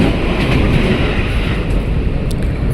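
KRL commuter train bound for Bogor at Manggarai station, Jakarta: a steady, loud rumble of rolling rail wagons with wind buffeting, continuous and without voices.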